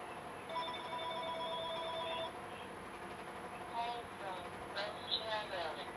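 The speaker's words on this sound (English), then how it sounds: "Now Barb is calling me on my landline." A landline telephone rings in a warbling electronic tone for about two seconds over a steady background hum, followed by quieter broadband noise and a few faint chirps, with someone talking faintly underneath.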